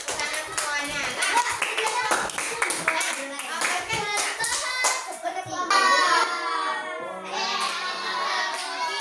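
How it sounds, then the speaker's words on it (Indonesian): Children in a classroom clap together in a burst of quick, uneven applause that fades and picks up again, mixed with their chatter and a teacher's voice. "Tepuk tangan semuanya."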